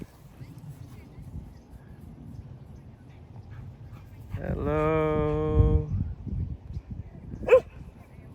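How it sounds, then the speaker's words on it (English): A dog whimpers in a long, drawn-out whine that rises and wavers over a couple of seconds, followed by a single sharp bark; a person speaks briefly nearby. "Look at this dog."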